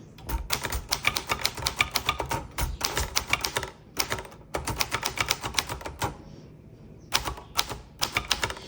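Rapid bursts of keystrokes on a Hermes Baby travel typewriter, loud and close, in uneven clusters separated by short pauses, with no voices.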